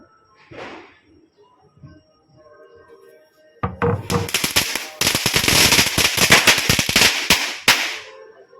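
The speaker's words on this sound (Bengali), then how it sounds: "চলো এটা কি বাজি দেখা যাক" Firecrackers set off during Kali Puja, a dense crackling string of rapid sharp bursts that runs for several seconds, close and loud, following a few soft earlier sounds and brief voices.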